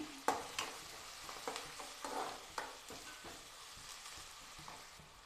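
Quiet sizzling of capsicum frying in a tempering in a pan, with scattered scraping and tapping from stirring.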